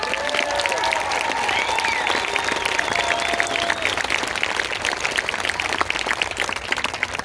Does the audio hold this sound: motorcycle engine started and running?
no